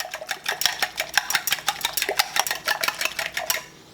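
A whisk or fork rapidly beats egg yolks into milk in a bowl, a quick rhythmic clatter against the sides that runs steadily, then stops near the end.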